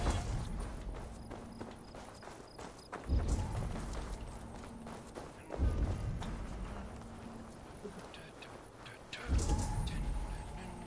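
Horse hooves clip-clopping in Assassin's Creed Valhalla, a steady rhythmic gait with periodic heavier thumps, moderately close, under faint game ambience.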